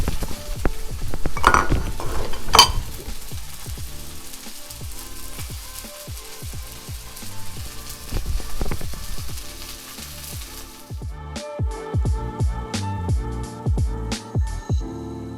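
Cream cheese and heavy cream stirred together in a hot skillet, with a steady sizzle and repeated scraping clinks of a utensil against the pan, close and fairly loud throughout.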